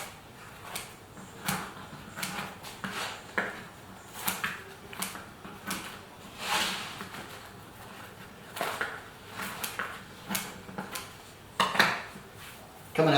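A freshly baked pizza from a quick dough is cut open, heard as a run of scraping and clattering knife-on-plate knocks, uneven and fairly quiet, with short louder bursts and no talk.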